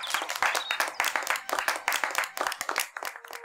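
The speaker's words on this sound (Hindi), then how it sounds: "तालियां बजाओ।" Audience applause at a public gathering: dense, continuous hand clapping from a crowd, fairly close and steady, swelling in bursts for the full few seconds.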